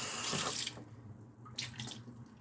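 Tap water runs into a kitchen sink as dishes are washed by hand, a loud close gush that drops away, then short splashes and rinsing bursts.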